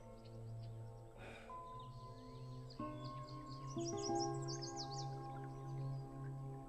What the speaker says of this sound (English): It is the world's largest walk-through dome like aviary, which houses 400 birds across 30 different species